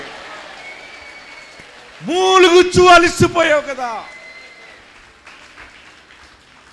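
A church congregation claps hands and shouts together at a live prayer service, a loud burst of about two seconds mixed with raised voices, then fading back to a preacher's speech.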